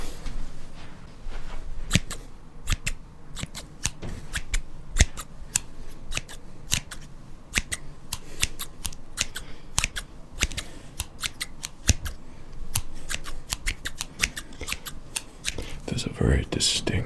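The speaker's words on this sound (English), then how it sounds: "There's a very distinct sound to this particular pair of scissors" Box-making scissors snip crisply in a steady series of sharp, close cuts, some quick pairs and some single strokes, continuing throughout with a soft rustling background.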